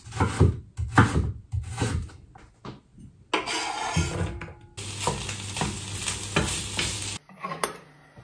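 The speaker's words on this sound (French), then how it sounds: "je vais aller cuisiner du poisson pour ce soir" Fish frying in a pan, stirred and moved about, with bursts of scraping and rustling over steady sizzle; close and fairly loud, no talking.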